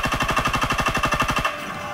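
The Hydra Epic variant of the Type 38 rifle fires in Call of Duty: WWII, with a rapid burst of about eighteen evenly spaced shots in a fast mechanical rhythm that stops abruptly and leaves a short ringing tail.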